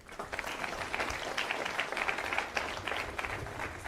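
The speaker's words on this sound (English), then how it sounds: "Let's have a round of applause for all the incoming liberal arts students." An audience at a college fall convocation applauds steadily for several seconds, dense hand clapping filling the room at moderate distance.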